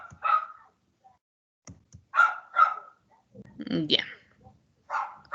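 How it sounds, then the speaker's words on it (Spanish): A neighbours' little dog cries during thunder with a few short, sharp yelps and whimpers, fairly close and clear, broken by gaps and mixed with brief bits of speech. "ese perrito de mis vecinos cuando suenan los truenos llora"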